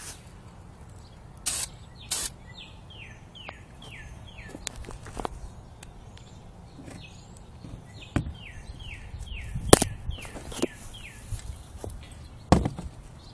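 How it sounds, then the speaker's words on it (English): A spray paint can with a 360-degree nozzle releases short, repeated hissing bursts in quick series, interspersed with scattered knocks and handling clicks, moderately close and fairly quiet, with no talking. "This paint can has a 360 nozzle thing, so it'll be easier to get in there."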